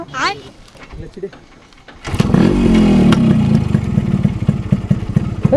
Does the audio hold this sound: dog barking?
no